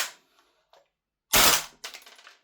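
A WellPro AK12 gas blowback airsoft rifle fires two rounds: a loud sharp crack with a hard mechanical bolt clack, then a second quicker rattling burst, with a couple of faint handling clicks before and silence between.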